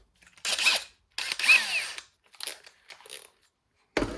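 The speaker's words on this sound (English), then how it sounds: "drill up in with a smallish pilot hole, pilot drill" A power drill whirs in several short bursts with pauses between, grinding briefly as it bores a small pilot hole in a Hayabusa motorcycle gear shifter.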